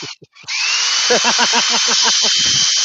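An electric drill with a long cable whines in a woodturning workshop, running at a steady high pitch after a short burst, while a voice talks rhythmically over it.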